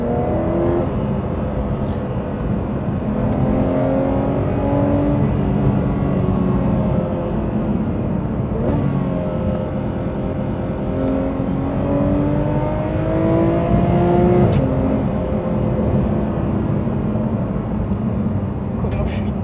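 A Porsche GT3 RS drives on winding mountain roads with paddle shifts. Its engine note rises and falls continuously through the shifts, loud and close, with a voice talking over it.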